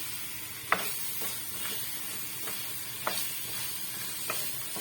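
Crab curry seasoned with chili powder is stirred in a pan, giving a soft continuous sizzle broken by a few sharp spoon scrapes against the pan, close and fairly quiet with no voices.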